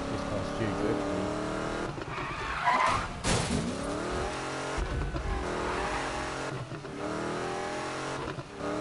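A race car drifts in the Need for Speed video game, engine revving and tires squealing in long skids, with a loud impact midway and a player talking over the action.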